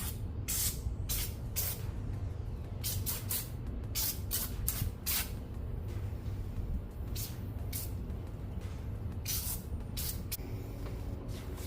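Compressed air blasting gunk off Ford Fiesta ST parts during maintenance: repeated sharp hissing bursts, some short and some longer, over a low steady background hum, close and loud, with no talking.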